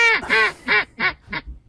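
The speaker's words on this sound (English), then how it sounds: "anybody know where these ducks are coming from around here?" Ducks quack inside a temple, four or five loud, close, nasal calls in a quick descending series.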